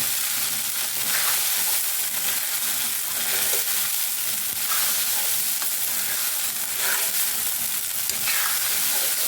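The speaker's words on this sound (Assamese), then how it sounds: "আৰু ধুনীয়াকৈ এইখিনি মিক্স কৰি ভাজি ল'ম" Flattened rice (chira) fries and is stirred in a hot pan, giving a continuous sizzle with periodic scraping strokes of stirring, close and steady throughout without any talk.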